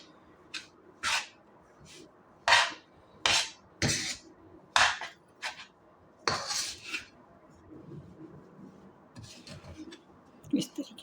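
A metal spatula presses and scrapes gram flour roasting in ghee in a pan over a low flame, giving sharp, irregular clinks and scrapes against the pan, close and clear, with quiet gaps between strokes.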